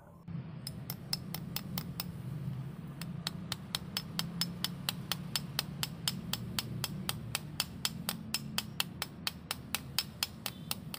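A multifunction hammer tool drives a concrete nail with a long run of sharp metallic strikes at a steady, quickening rhythm, close and clear over faint background hum.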